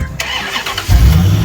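A truck engine cranks and catches, rising into a loud, low rumble that settles toward idle inside the cab; no talking.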